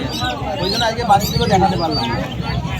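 Caged pigeons at a 200-year-old animal market, their soft cooing and fluttery calls rising close by amid a busy crowd, with people talking over them throughout.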